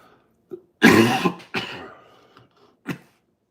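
Several harsh coughs from two people, close and loud, in uneven bursts with short pauses between, ending with one sharp cough.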